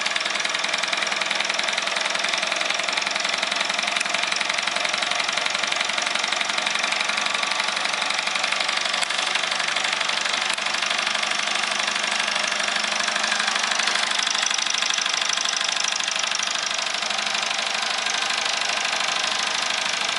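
A working model power plant's generator engine runs steadily in a continuous, even hum with a faint rattle, unchanged throughout and with no voices.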